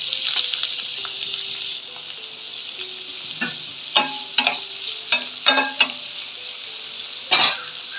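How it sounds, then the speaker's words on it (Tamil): Onions and green chillies sauté in a pan with a continuous hiss, while a spoon clinks and scrapes against the metal in a run of short, irregular knocks. "ஒரு வானிலையில் வெங்காயம், பச்சை மிளகாய் எல்லாம் வதக்கிக்கலாம்."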